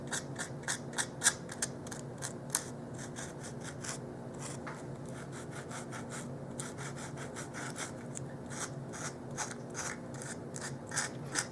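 Sandpaper rasps in quick, steady strokes against painted craft paper on a dollhouse miniature porch sign, a close, dry scratching rhythm that runs continuously without talk.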